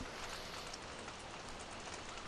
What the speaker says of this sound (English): it might as well just keep raining.